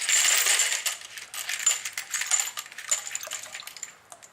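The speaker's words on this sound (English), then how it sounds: "Now we're going to put the parts in the actual black oxide coating" Small metal brake hardware parts clink and rattle close by as they are dropped into a black oxide coating bath, a burst of bright jingling followed by scattered lighter clicks, no talk.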